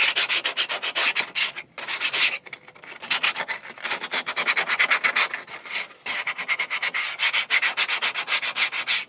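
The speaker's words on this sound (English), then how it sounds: "Get a quick bit of sanding down a bit" Rapid rhythmic rasping strokes of sandpaper on wood, close and steady, with a couple of brief pauses between runs.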